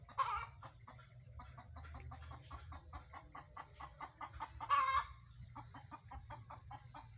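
A hen clucks repeatedly in a steady rhythm while searching for a nesting spot to lay eggs, with a couple of louder squawking bursts and low farmyard background noise.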